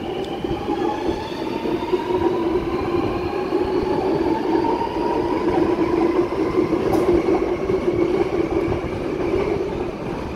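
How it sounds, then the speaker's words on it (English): A Sydney metro train pulls away from a platform at Chatswood station, a loud, steady rumble and hum with rising electric motor whine, continuous and close throughout. "Tallawong bound metro departing platform number 3 for a Tallawong service"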